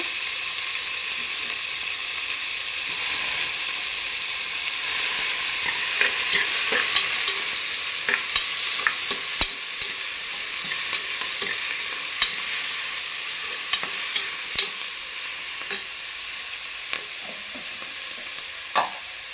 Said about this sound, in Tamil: தக்காளி போடுறேன் கருவேப்பிலை